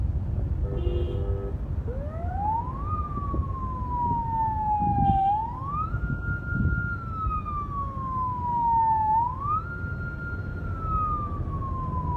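An ambulance siren wails with a slow rising and falling tone, fairly close, over steady road traffic rumble.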